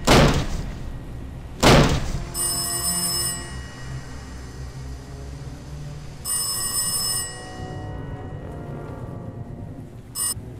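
Ringing telephone in the video game Last Days of Lazarus, sounding in loud repeated bursts separated by pauses, with a door-like thud near the start and a short final ring cut off at the end.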